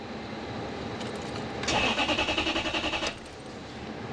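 A 3UZ V8 engine fitted in a 2013 Toyota Hilux with a fuel pump fault cranks without starting, giving a rapid, rhythmic starter churn for about a second and a half before it stops, close and fairly loud.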